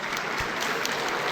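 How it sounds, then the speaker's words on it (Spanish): Audience applause at a labor confederation event, a dense, steady wash of clapping throughout the short stretch. "Un aplauso."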